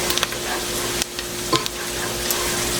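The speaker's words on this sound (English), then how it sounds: "Gonna stir that in and cook it for about 30 seconds or so." Minced garlic fries in butter with onions in a pan and is stirred through, giving a close, steady sizzle. A few scraping clicks from the stirring cut in and out.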